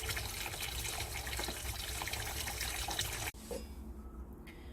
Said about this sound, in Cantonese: 出完水嘅豬手洗返乾淨